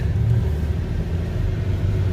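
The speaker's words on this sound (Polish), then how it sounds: "samochód jedzie, przyspiesza" A BMW X5 rumbles steadily as it drives, its engine note a low continuous drone heard from inside, with a slight push of acceleration.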